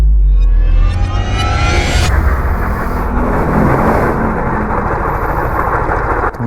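Motorcycle engine with a damaged block and abnormal drivetrain noise, revving loudly up close and then settling into a harsh, whirring, helicopter-like roar that holds steady to the end.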